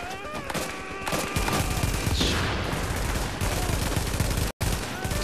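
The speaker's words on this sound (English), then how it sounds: "Explosive bullets." Explosive rounds fire in rapid, overlapping bursts in the video game The Division, close and loud, with a dense crackle of shots and a brief dropout near the end.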